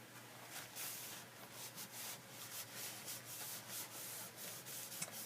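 Edges of a paper gift bag being distressed, a steady dry rubbing and scraping that runs continuously with soft rhythmic strokes, close and moderately quiet, with no talking.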